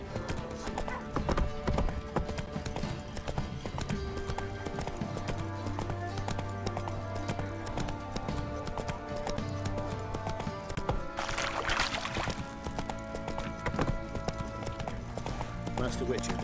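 The horse Roach gallops in The Witcher 3: a rapid, steady clip-clop of hooves runs throughout, with a horse neigh and snorts, under game dialogue and a rider's calls.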